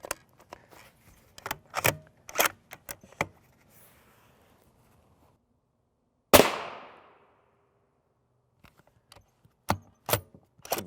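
A single sharp, loud report from a rifle fitted with a JK Armament rifle kit Form 1 suppressor, fired at a ShotStop Duritium Level III+ armor plate, with scattered light mechanical clicks and clatter before and after.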